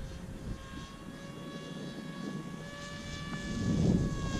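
A FLYBOT Mini FPV race wing buzzes past with a faint, steady high-pitched motor whine and propeller drone that swells slightly as it comes closer near the end, over outdoor background noise.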